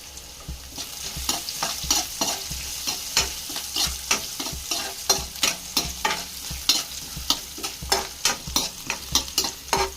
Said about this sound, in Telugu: మంచిగా ఫ్రై అయ్యే బ్రౌన్ కలర్ వచ్చే గింజలు